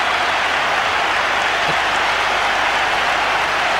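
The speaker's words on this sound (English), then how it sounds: "The crowd says it all." Thick wall of cheering and applause from a packed cricket stadium crowd celebrating Sachin Tendulkar's boundary in an India vs Sri Lanka World Cup game, loud and unbroken throughout.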